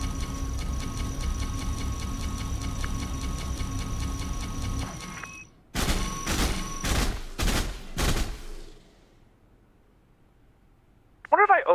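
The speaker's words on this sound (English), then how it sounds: "I'm just going to mag dump you for a second here." Kestrel MkII ship weapons in the space game Elite: Dangerous, a long rapid stream of shots over a droning engine hum, then a handful of separate loud bursts before it falls quiet, followed by a brief voice.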